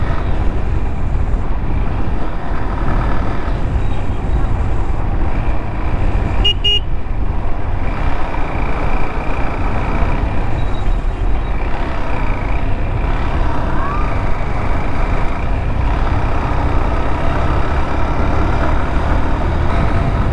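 Steady, loud road traffic on Sheikh Hasina Sarani, the 300 Feet road in Dhaka, with a continuous broadband rumble of passing cars and trucks, close and unbroken throughout, and a brief sharper noise partway through.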